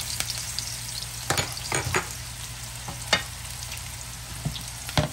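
Brussels sprouts frying in oil in a pan give a steady close sizzle, broken by several sharp crackles and spits as more oil is added, with no talking.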